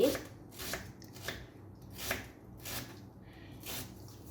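A knife chopping onions on a board, a series of soft, evenly spaced cuts about every half second, close and quiet with no talk over them.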